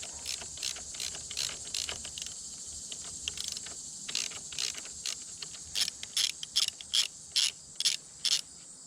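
A ratchet wrench works a 14 mm bolt loose on a 2019 BMW R1250 GSA motorcycle during a handlebar riser install. Crisp, rapid ratchet clicks come in close repeated bursts, with no talking.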